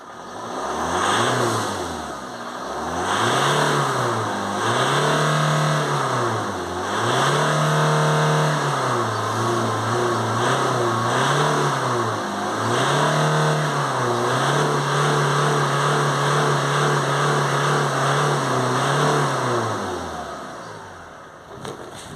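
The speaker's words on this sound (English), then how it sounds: "Now we're going to give it a few revs" A Ford Transit Custom van with oil in its exhaust is revved repeatedly, about seven loud, close rises and falls in engine pitch. Some revs are held briefly before the engine drops back to idle between them.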